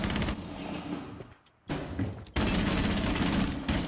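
Rapid gunfire from the tactical shooter game Rainbow Six Siege, dense bursts of shots that drop out briefly to near silence, then resume loud and sustained to the end.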